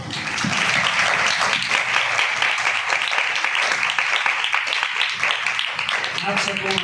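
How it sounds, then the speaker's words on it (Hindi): Congregation clapping at a Christian sermon, dense sustained applause filling the room for several seconds, with voices calling out over it and a voice briefly emerging near the end. "इसके लिए तालियां बजाइए"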